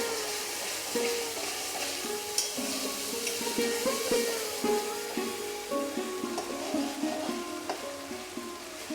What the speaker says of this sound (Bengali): এবার এতে আমরা রসুন পেস্টটা দিয়ে দিচ্ছি। আমরা একটু নাড়াচাড়া করে নেব।